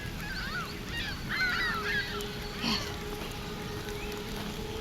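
Geese honk over an island sky in scattered, distant calls against a steady background of wind and ambient noise, with a low voice briefly audible beneath them.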